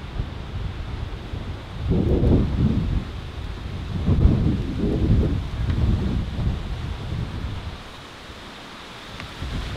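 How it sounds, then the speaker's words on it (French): An approaching outdoor thunderstorm sends deep rolling rumbles of thunder in repeated swells over steady wind buffeting the microphone, then eases toward the end. "Il y a une tempête qui arrive,"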